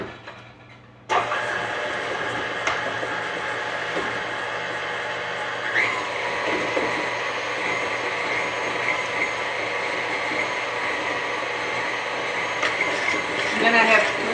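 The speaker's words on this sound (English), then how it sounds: "I'm going to beat that up until it's blended." An electric mixer beats a quarter cup of butter with a third cup of sugar for lava cake batter, a steady, close motor whir that starts abruptly and runs without pause, with slight rattles, to the end.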